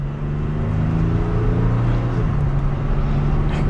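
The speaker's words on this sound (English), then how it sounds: "we'll give it a small acceleration" A 2022 Toyota Tacoma TRD Sport pickup truck accelerates gently, heard from inside the cab as a loud, steady engine drone with road noise, its pitch shifting slightly as it picks up speed, with no voices.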